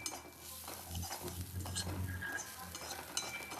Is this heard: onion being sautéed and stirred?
yes